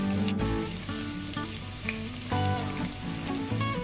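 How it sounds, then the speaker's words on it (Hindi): Cumin seeds, finely chopped garlic and ginger sizzling and crackling loudly in hot oil in an Indian kitchen, a steady close frying hiss with soft music playing underneath. "तेल गरम हो गया है, अब इसमें हम डालेंगे 1 टीस्पून जीरा।"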